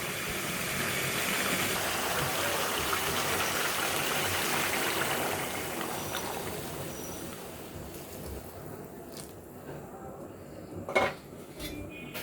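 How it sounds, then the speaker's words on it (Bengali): Hot water pours steadily into a pot of layer chicken curry, a rushing splash for several seconds that fades, followed by a couple of metallic pot clanks near the end. "গরম পানি দিয়ে দিচ্ছি।"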